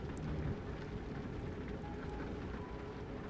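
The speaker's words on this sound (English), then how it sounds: "hear the rain hitting the body of the truck" Rain patters on the body of a truck in the driving game American Truck Simulator, a faint, even hiss of drops that stays steady and unbroken.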